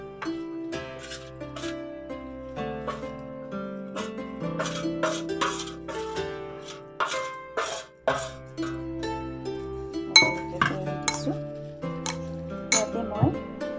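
Dried garlic, ginger and chillies are ground in a ceramic bowl for chilli pickle, making scattered clinks and scraping taps at close range with quiet rubbing between strikes.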